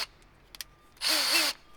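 A power drill fitted with a star bit whirs up in one short, loud burst of rising and falling motor pitch, preceded by a few quiet clicks.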